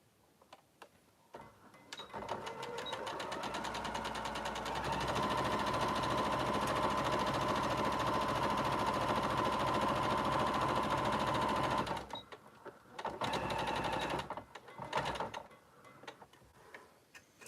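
A sewing machine stitches a long seam in one steady, rapid whir of needle ticks that lasts about ten seconds. Short bursts of stitching come just before and just after it, separated by quiet.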